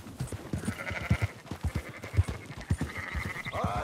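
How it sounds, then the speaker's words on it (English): Sheep in Red Dead Redemption 2 bleat repeatedly in a flock, overlapping calls near and mid-distance over a low rumble of game ambience, no talk. "Marston, why don't you leave the sheep to me?"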